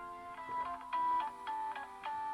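A telephone ringing at a live broadcast desk, a repeating electronic trill of short bursts with a steady harmonic tone, moderately loud and close with no voices over it.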